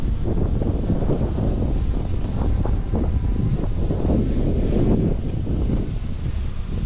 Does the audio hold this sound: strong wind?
yes